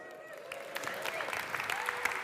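A crowd applauds at a sales pitch talk by April Dunford after she mentions her new book, scattered clapping that sounds faint and somewhat distant, with faint voices running beneath it.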